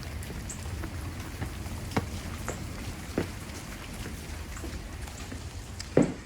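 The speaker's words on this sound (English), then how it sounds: "It's a rainy day" Rain falls steadily on a rainy day outside a house, a constant hiss of drops hitting surfaces with a few louder drips and taps scattered through it.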